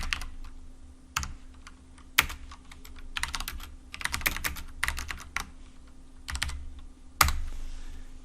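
Computer keyboard being typed on to add notes, with irregular bursts of crisp key clicks and a few louder single taps over a faint steady hum, close by and without talk.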